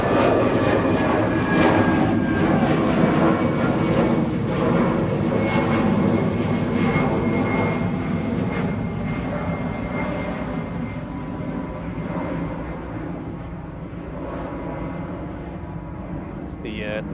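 An Aer Lingus airliner bound for Dublin roars at Manchester Airport, a loud, sustained engine rumble that fades gradually over seventeen seconds, with a voice talking over it.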